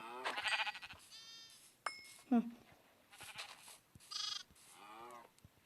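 Sheep bleat in Minecraft, several distinct bleats in close succession, some wavering and drawn out, over game sounds, with a person talking between them.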